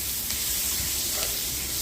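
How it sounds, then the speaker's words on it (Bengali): Chopped onion sizzling in hot oil with panch phoron in a pan for Bengali fish curry, a continuous close crackling hiss with faint stirring ticks. "5 ফোড়নটা একটু ফুটে উঠলে এর মধ্যে আমি দিয়ে দেব পেঁয়াজ কুচি।"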